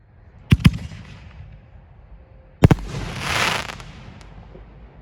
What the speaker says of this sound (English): This is a Brothers Artillery Shell Light Entertainment, another 5-inch canister shell this year.